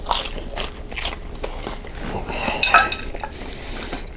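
Crunchy air-fried Shake N Bake ravioli being bitten and chewed, with sharp crackly crunches and some cutlery-like clicks close up, repeating irregularly over a few seconds with no talking.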